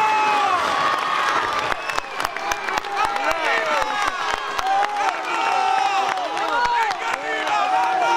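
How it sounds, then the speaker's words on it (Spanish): Crowd at a Holy Thursday procession in Antequera cheers and claps as bearers run a float uphill, a loud continuous roar with sharp hand claps scattered throughout and shouting voices rising over it. "Un aplauso para esos hermanacos que con brío suben ahí"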